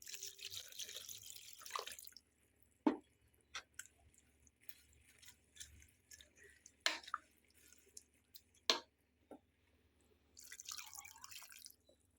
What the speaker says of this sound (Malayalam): നമുക്കിതിലേക്ക് ഇത് വേവാനുള്ള വെള്ളം ചേർക്കാം.